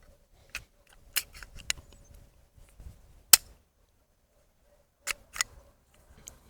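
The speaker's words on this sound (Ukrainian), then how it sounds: "Далі одягаємо затвор." Metal slide of a Kuzey S320 starter pistol being fitted on, a series of sharp small clicks and clacks scattered irregularly over several seconds, close and quiet with silence between them.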